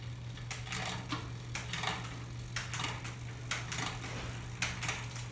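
A bicycle rear derailleur shifts through its gears over a steady low hum, the chain clicking and ticking in a run of sharp, evenly spaced bursts, close and fairly loud, with no talking.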